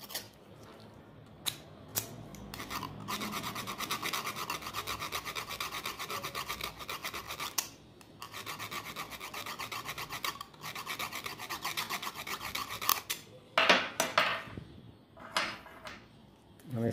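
Copper contact points of a 24 V starter solenoid being scrubbed clean, a steady close rasping scrape running for most of the span with brief pauses and a few sharper scratches near the end.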